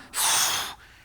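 A single sharp, breathy exhale lasting about half a second, close and clear, made while pulling through a seated cable row.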